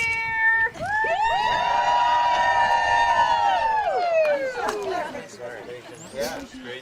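A group gathered for the opening of the Lundbom Lake horse camp lets out a loud, sustained cheer with whoops and hollers, swelling for a few seconds before trailing off into scattered voices.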